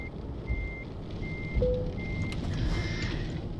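Truck reversing alarm in Euro Truck Simulator 2, a steady series of evenly spaced electronic beeps repeating about once a second while the rig hitches cargo, over a constant low engine rumble.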